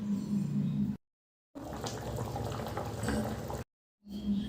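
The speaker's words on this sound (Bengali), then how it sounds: "দেখুন ভালোভাবে ফুটে উঠেছে" A covered pot of meat and elephant foot yam curry boils, bubbling steadily at close range, with two brief silent gaps breaking the sound.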